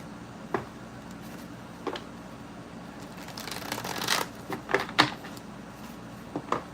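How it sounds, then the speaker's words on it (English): Tarot cards are shuffled in several quick riffling bursts, soft rustles and flicks close by, with brief pauses between. "One more shuffle"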